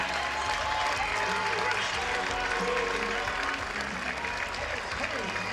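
Ohio State baseball crowd in Columbus applauding a departing player's send-off, a steady, dense wash of clapping and cheering that fills the whole stretch at even loudness.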